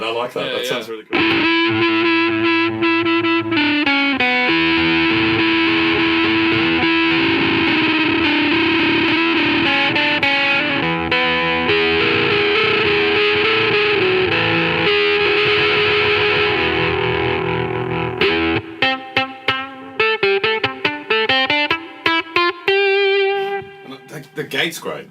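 Heavy distorted electric guitar through a Midnight Amplification Devices Starburner pedal into a cab with a Greenback speaker, playing loud sustained chords and riffs, then choppier gated notes toward the end.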